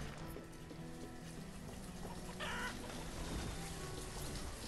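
Soft clucking of chickens in the video game Banished over a busy background of ambient game sounds and a faint watery patter, fairly low and continuous.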